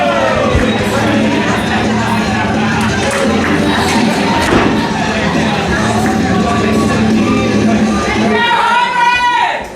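A crowd at a live pro wrestling show cheers and shouts for wrestler Dorian Weber, a steady loud roar of many voices sustained throughout with scattered whoops.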